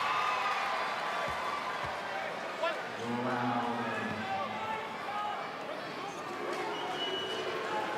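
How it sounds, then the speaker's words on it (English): Roaring crowd in a sold-out basketball arena at a semi-final playoff game, a steady wash of cheering and noise with squeaking shoes and bouncing ball, while a commentator talks over it. "Sold out crowd at the Wynn Entertainment Centre, making their thoughts known."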